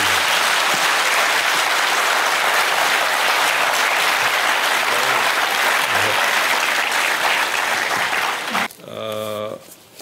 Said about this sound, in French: On va faire un tonnerre d'applaudissements